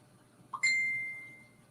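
A phone notification ding rings out once in a quiet room: a soft lead-in tone, then a bright, bell-like chime that rings on and fades slowly, with no voices.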